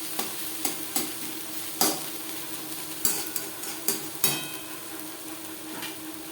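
Data shak (amaranth stem greens) frying with onions in a pan on a gas flame, a constant close sizzle broken by sharp irregular scrapes and taps of a spatula stirring, no voices.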